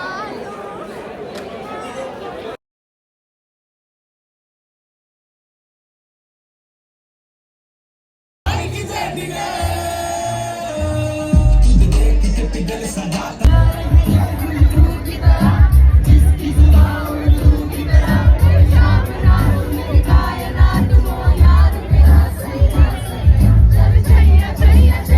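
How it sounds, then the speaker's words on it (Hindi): A dense crowd at a busy college event chatters and shouts, with loud whoops and cheers rising out of the babble; a brief stretch of silence comes early, then the noise swells and stays loud and close. "इतनी भीड़ बढ़ती जा रही है"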